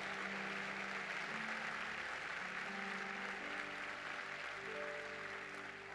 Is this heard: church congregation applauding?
yes